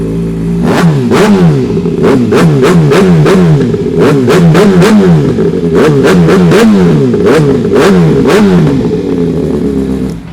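A used big bike motorcycle engine is blipped repeatedly, a loud close series of about a dozen sharp revs rising and falling over a steady idle, some in quick pairs.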